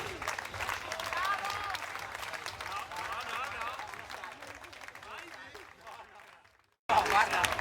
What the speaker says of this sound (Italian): Prepariamo un applauso per Glauco Nedrotti.